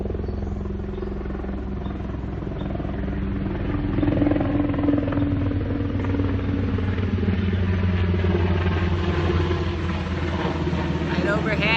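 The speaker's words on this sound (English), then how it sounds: "Oh, helicopter." An army helicopter passes right overhead, its rotor thump and engine rumble loud and steady throughout, with people talking beneath the noise.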